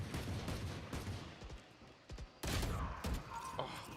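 Bulldog rifle fire in Valorant during a pro esports match on the Icebox map, a fast crackle of rifle shots and impacts amid busy game noise, loud and continuous over four seconds.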